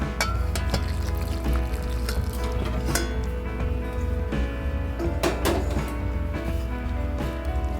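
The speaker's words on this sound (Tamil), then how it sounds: "வெள்ளை சூடாக இருக்கிறப்ப ஊற்றி கரைச்சிக்கோங்க." Hot white jaggery syrup is poured into a wheat flour appam batter, giving a steady, close liquid pour with faint trickling and scattered sharp knocks of a utensil against the bowl throughout.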